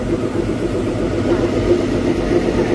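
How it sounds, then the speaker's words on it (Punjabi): A small Indian Railways engine at Kalka Railway Station runs after starting, giving a steady low diesel rumble with an even idle throb. It is loud and close, with no talk over it. "ਹੁਣ ਜੀ ਸਟਾਰਟ ਹੋ ਗਿਆ ਇੰਜਨ ਧੂਆਂ ਕੱਢਦਾ ਇਹਨੇ"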